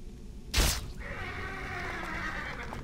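Horse from Warcraft III, a short sharp neigh that breaks out loud and close, then trails into a quieter wavering whinny over soft game background sound.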